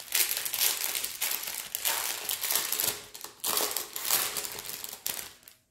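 A plastic package from a diamond painting kit is opened and handled, giving close crinkling and crumpling in bursts that rise and fall before dropping to silence.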